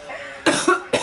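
Three sharp coughs close to the mic, one after another in quick succession with brief gaps between them.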